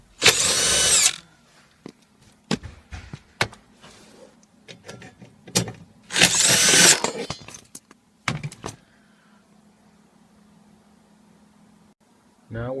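A power drill fitted with a 10mm socket removes bolts from the blower of a Honda Civic during expansion valve and evaporator work, giving two loud whirring bursts close by, separated by scattered clicks and clanks of tools.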